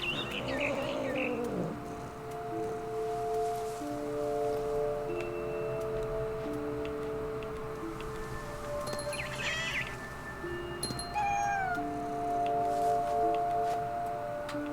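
Cat meowing in the video game What Remains of Edith Finch, a few drawn-out meows over a soft game soundtrack and birdsong, moderately loud.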